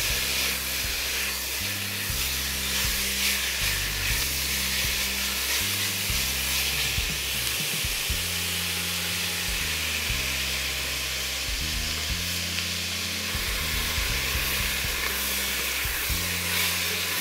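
Lamb pieces and onions browning in a pan give a steady, close sizzle that runs unbroken for the whole stretch, with a low rhythmic hum underneath.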